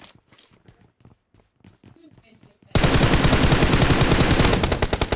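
Loud automatic gunfire in PUBG Mobile, a rapid continuous burst of shots close up, following a quieter stretch of game movement sounds.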